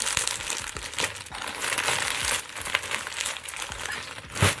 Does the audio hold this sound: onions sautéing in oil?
no